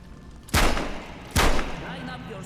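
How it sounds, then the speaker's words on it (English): Two loud gunshots from the video game Metro Awakening, spaced under a second apart, each with a sharp crack and a trailing boom over a faint background hum. "Line up your shots down the gun sights."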